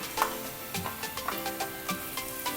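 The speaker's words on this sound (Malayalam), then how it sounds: "നല്ലോണം ഇളക്കുക." Masala with Kashmiri chilli, coriander powder and garam masala is stirred in a pan for a Kerala-style egg masala, a rhythmic series of spoon scrapes and light clinks over a low sizzle, close up.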